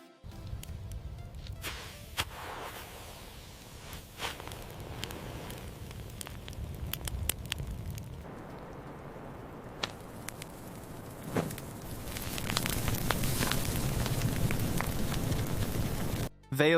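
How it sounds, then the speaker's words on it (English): AI-generated fire from a burning matchstick spreading across a book's page: a steady, close crackling hiss with scattered sharp pops that grows fuller and louder toward the end. "The prompt involves a burning matchstick igniting a book, and the fire naturally spreading across the page with detailed progression."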